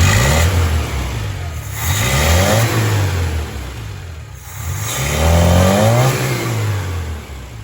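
A 1981 Dodge Challenger engine with ignition and carburetor trouble revs up and holds high, then drops and climbs again, a loud droning surge repeated twice with a wavering pitch.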